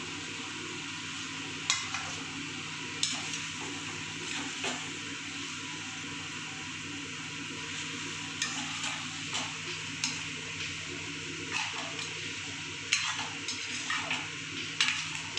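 Paneer cubes and whole green chillies fry in a pan for Bengali-style paneer with curry leaves, giving a steady low sizzle with occasional scraping stir clicks and light utensil taps, close and alone.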